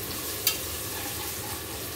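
Tomato pieces fry for chicken biryani with a constant soft sizzle, broken by one brief sharp clink of a utensil against the pan.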